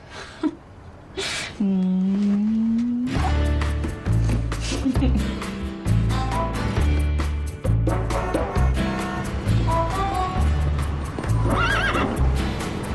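A horse whinnies loudly near the start, then hooves clip-clop in a steady rhythmic beat, close and prominent, with a few further neighs over the trotting.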